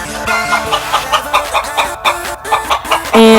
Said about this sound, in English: And this is what he actually sounds like. Chicken Sounds 10 Hours by Zooks It, Paul and Fenya, 8 years old.